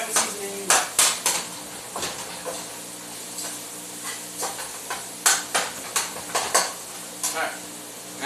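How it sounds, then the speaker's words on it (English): Repeated clinks and scrapes of a utensil against a pan while garlic and parsley seasoning are stirred into butter, irregular taps close by over a faint background hum. "now you stir your garlic with your butter"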